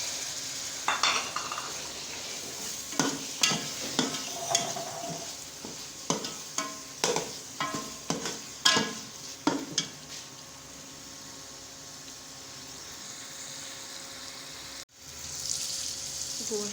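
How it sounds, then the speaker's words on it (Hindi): Spiced meat, later to be joined by chicken, fries in a pan while a spoon scrapes and clacks against the metal in a run of sharp strokes over a steady sizzle, then the stirring stops and only the frying goes on. "इसे मैं अच्छी तरह से भूनूंगी, उसके बाद इसमें मैं चिकन डाल दूँगी।"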